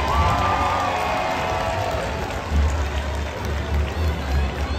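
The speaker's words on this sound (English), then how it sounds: "Everyone give Nico and Bryson a big round of applause" A crowd cheers and claps steadily at a SeaWorld San Diego orca show, a continuous wash of applause with a low rumble beneath, fairly loud and sustained throughout.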